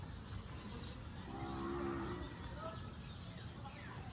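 Low cattle moos carry faintly over steady outdoor noise and murmuring, with a bird calling briefly in the background.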